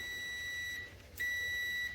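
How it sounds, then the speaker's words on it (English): A multimeter on audible continuity test gives a steady high electronic tone as the leads touch. The tone cuts out briefly, then returns at the same pitch and holds clear and alone. "I'm going to put it on an audible continuity test"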